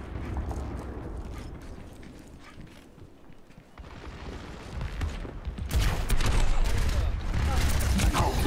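Overwatch match with a steady rumble of game gunfire and ability effects, growing denser and louder toward the end, with players talking over it.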